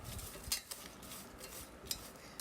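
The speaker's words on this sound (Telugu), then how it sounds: "లెమన్ స్క్వీజ్ చేసేసుకున్నాక బాగా అయితే మిక్స్ చేసేసుకోండి." Kurkure chaat being mixed in a bowl after a squeeze of lemon, giving soft scraping, stirring and light clinks of a spoon against the bowl, quiet and close.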